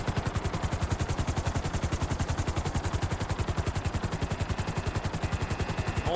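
Rapid, continuous automatic gunfire from the video game GTA 5 at a military base rattles in a steady rhythm over a whirring helicopter-like drone with alarms, loud and unbroken throughout.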